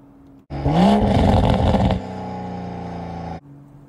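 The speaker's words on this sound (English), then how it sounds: "you're in sport mode and you give it a downshift, it'll give you a nice little blurb on the exhaust" A 2021 Toyota Supra GR 3.0L engine in sport mode revs hard and loud for a moment on a downshift, then drops to a steady, lower exhaust rumble before cutting off.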